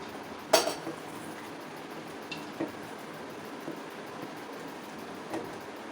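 Utensil scraping and clinking in a wok while gram flour roasts, with a few sharp metallic clinks and quieter scrapes over a low background hiss.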